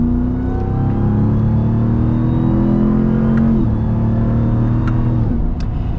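A 2021 Ram TRX pickup, heavy at over 6,000 pounds, accelerates hard in the wrong gear, its engine roaring loud and steady with rising harmonic tones and a brief shift midway, heard up close and alone.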